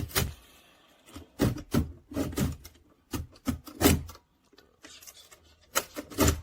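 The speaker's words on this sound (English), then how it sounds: "We carefully insert the pick into the lock, take a tension wrench" Lock pick and tension wrench worked into a lock cylinder, giving a string of short metallic scrapes and rubbing clicks in irregular bursts, close and fairly clear, with brief quiet gaps between.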